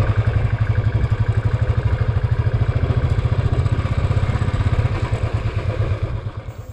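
A motorcycle rides along a badly potholed road between Katihar and Daniha, its engine throbbing loud and close in a steady rapid pulse throughout with a rattling clatter beneath, no talk.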